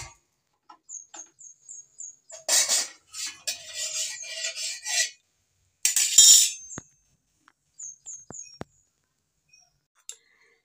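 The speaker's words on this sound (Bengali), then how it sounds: "কড়াইটা বসিয়ে দিই।" A metal wok is set on the stove in a Bengali home kitchen where dal curry is being cooked, with two rough scraping bursts against the burner while small birds chirp faintly in the background.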